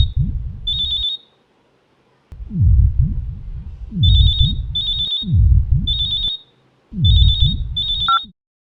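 A telephone rings in repeated bursts, each a trilling electronic bell over a low buzzing pulse, with short silent gaps between rings; loud and close, alone with no talk.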